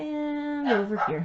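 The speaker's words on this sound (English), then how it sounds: "Sorry about my dogs barking." A dog gives a drawn-out howling whine followed by a short bark-like yelp, nearby, while a person speaks briefly.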